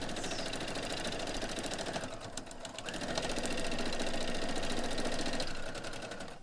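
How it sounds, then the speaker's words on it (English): A sewing machine runs in a steady, continuous whir as it stitches along the lines of a foundation paper-pieced pine tree block, with a brief dip in the middle before picking up speed again. "And then I want to sew along my lines"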